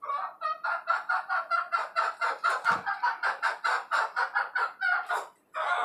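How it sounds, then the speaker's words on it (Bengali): A family of backyard chickens, rooster and hens together, clucking in a rapid, rhythmic series of loud, close calls that run almost nonstop, with one short pause near the end and no speech. "এই হচ্ছে আমার টাইগার মুরগির পরিবার, মোরগ মুরগির পরিবার।"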